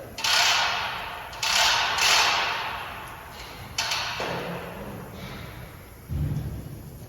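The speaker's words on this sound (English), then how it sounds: "it did also come with this roller, and this is to make sure that patch makes a full seat on the bottom of the tire" A hand roller pressed over a patch on the inner floor of a car tire during a repair gives a few loud scraping, crinkling rolls with thumps at the start of each stroke, close up and with no talking.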